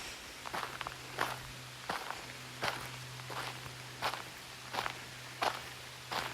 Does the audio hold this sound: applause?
no